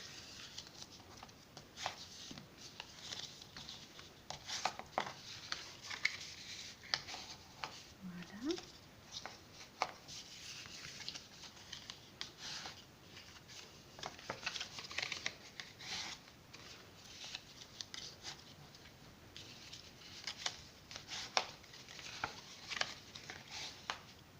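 Faint, scratchy strokes and light taps as fold lines are scored into Stampin' Up paper for a box, repeated at an irregular pace, with soft talking now and then.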